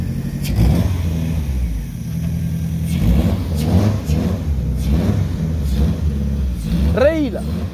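A VW Mk1 Golf GTI engine revs loudly up close in several rising bursts, with people talking and shouting over it throughout.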